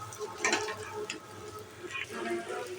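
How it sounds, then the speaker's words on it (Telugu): Chicken pieces coated in ginger-garlic spice paste get turned in a frying pan for a roast, making a soft, low sizzle with a few quiet scraping stirs spread across the clip. "చక్కగా ముక్కలకి పట్టేలాగా తిప్పుకోవాలి"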